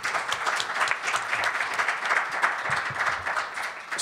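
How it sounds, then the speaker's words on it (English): An audience applauds panelists at a rebuilding-themed event, a steady wash of many hands clapping together at even loudness throughout, with no voices over it. "And a separate round of applause for our panelists for spending the time here"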